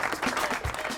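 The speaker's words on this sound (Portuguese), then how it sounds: "palmas!" Podcast listeners' applause on a running show, a brief dense burst of clapping filling the second at steady loudness, with no talk over it.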